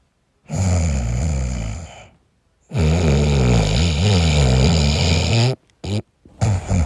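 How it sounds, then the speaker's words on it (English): A person snores loudly and close by in two long, rasping, guttural breaths, followed by a few short snorts, with no talking. "If I hear you snore one more time"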